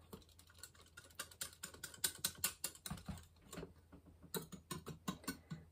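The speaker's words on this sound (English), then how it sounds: "So give this a good whisk." Thai peanut dipping sauce with fresh lime juice being whisked briskly in a bowl, a close run of rapid, rhythmic clicking taps with a short pause midway, alone without talk.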